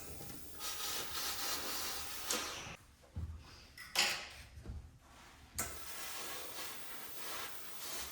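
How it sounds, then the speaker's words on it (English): A steam iron presses the fold line along the front edge of a coat facing, giving off steady hissing bursts of steam with brief pauses and soft thumps of the iron, close and moderately loud. "Press in the fold line along the front edge of your coat."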